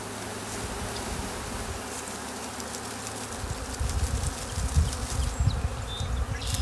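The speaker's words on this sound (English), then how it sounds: "That's a nice pile of bees, isn't it?" A dense swarm of honey bees hums steadily and close by, the buzzing thickening and growing louder partway through with no voices.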